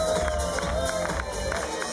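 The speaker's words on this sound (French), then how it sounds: "On va tout d'abord applaudir les filles" Audience at an evening cabaret show applauding and cheering, a steady dense wash of crowd noise throughout with a faint tone running above it.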